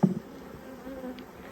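Honey bees buzz inside an open hive during an inspection for brood, a soft continuous hum with a brief louder thump at the start, fairly close and faint.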